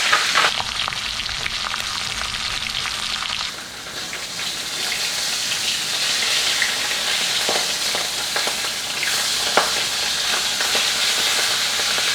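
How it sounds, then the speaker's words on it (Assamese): Fish head frying in hot oil for an Assamese-style muri ghonto, a close, steady crackling sizzle with stirring scrapes and bursts of spattering, loud and continuous without talk. "সো বলক আমি প্ৰথমতে মাছখিনি ভাজি লওঁ"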